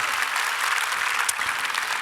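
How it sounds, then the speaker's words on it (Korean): A church congregation claps in sustained, dense applause at a Korean prayer conference, steady and fairly loud throughout the short stretch with no speech over it. "다시 한번 하나님께 영광의 박수 올려드립니다."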